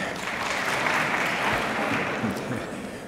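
Audience applause for guests being introduced at West Chester University's 2012 State of the University Address, steady clapping filling the hall for about three seconds, with no speech over it.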